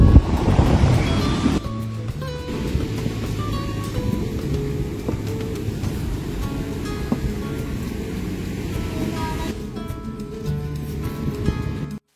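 Ocean waves roll steadily onto a beach beside a dinner setting at a seaside resort in Chirala, a continuous broad surf wash with some wind rumble, no speech.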